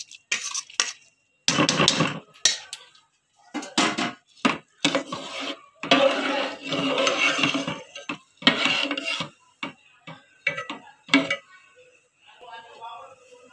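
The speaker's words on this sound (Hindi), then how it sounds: "अब इसमें हम ये पानी से चावल को निकाल लिया है, अब इसमें ऐड कर देंगे" Drained rice for cumin rice is tipped into a pot of water and stirred, giving repeated close scraping and clattering bursts of a spoon against the pot with short pauses between.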